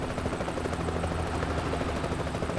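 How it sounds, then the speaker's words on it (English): A helicopter hovers over a freeway accident scene in Middle Eastern Truck Simulator, its dense, continuous rotor rumble and whine filling the scene steadily and loudly without any pause or talking. "There's a helicopter on the freeway."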